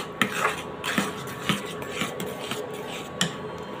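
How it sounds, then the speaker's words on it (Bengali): Steady scraping and clinking of a spoon stirring thick ripe mango pulp in a pan for aam shotto, a close, continuous rhythmic rasp with regular soft knocks against the pan. "তো এই আমসত্ত্বটা বানাতে কিন্তু ঘন ঘন নাড়তে হবে"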